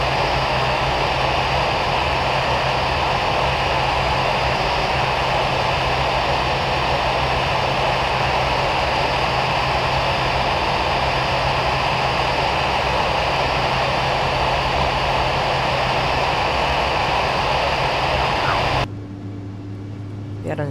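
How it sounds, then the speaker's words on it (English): Steady, loud jet engine roar from an EasyJet Airbus A319 in Flight Simulator X, a continuous broadband drone with tonal hum, cutting to near silence near the end. "this video is a flight with Easyjet A319 from Manchester to Marrakech"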